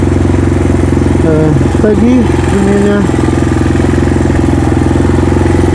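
A Kayo T4 pit bike engine idles with a steady, loud mid-pitched drone, while someone speaks briefly over it.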